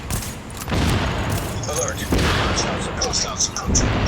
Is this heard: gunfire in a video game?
yes